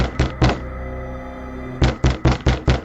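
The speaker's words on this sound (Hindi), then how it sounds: "अचानक आधी रात को दरवाजा खटखटाने की आवाज आती है।" Knocking on a door in a Japanese horror legend: two quick raps, a pause, then a run of five firm knocks, close and loud with no talk.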